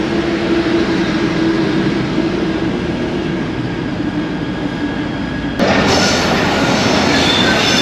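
A Karachi Circular Railway local train rolls through a long curve, a loud, continuous rumble of wheels and carriages with thin squealing tones running through it; the noise steps up sharply in brightness and volume near the end.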